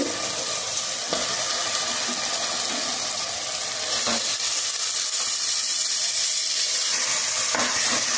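Chicken sizzling steadily in a hot pan while gongura chicken is cooked, a bright continuous hiss of frying with a few soft knocks.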